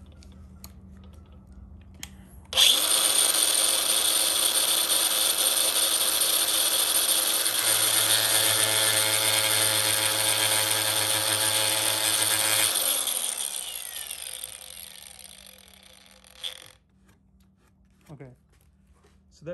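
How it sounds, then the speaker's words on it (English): An angle grinder whines loudly while cutting slots in Kydex sheet, a steady high-pitched grind lasting about ten seconds before spinning down, with quiet handling noises around it. "to cut the slots would be super easy if I had a Dremel, but I don't, so I'm gonna use this angle grinder."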